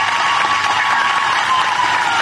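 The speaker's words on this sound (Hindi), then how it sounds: "ताली बजाइए अतुल भाई के लिए सभी लोग।" A rally crowd in Assam claps for Atul Bora, the Asom Gana Parishad–BJP alliance candidate, in a dense, steady wash of applause that holds at an even, loud level throughout.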